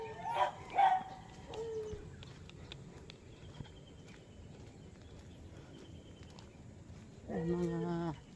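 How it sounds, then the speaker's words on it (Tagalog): Dogs barking and yipping at a distance, a few barks early and a burst near the end, with faint talk and outdoor background. "Tapos ang dami nilang aso."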